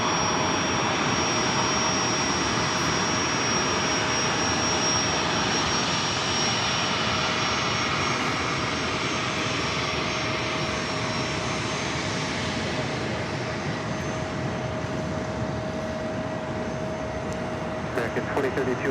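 Gulfstream G280 jet engines roar steadily at LAX airport, a broad sustained rush with a thin high whine running through it, heard from a moderate distance.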